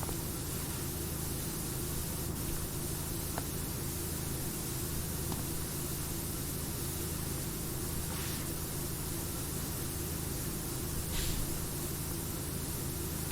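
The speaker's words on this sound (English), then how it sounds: "Like I said, the soothing sounds of white noise." A pressure washer in PowerWash Simulator gives a steady, even hiss of spraying water, broad and unbroken like white noise, at moderate level.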